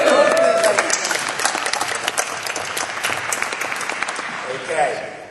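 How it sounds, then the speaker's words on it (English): Lively applause from an audience at a media agency CEOs' Jeopardy-style quiz, sharp, close hand claps layered into a dense wash with a whoop near the start and crowd noise mixed in, tapering slightly before a brief swell at the end. "Give him a round of applause, please, ladies."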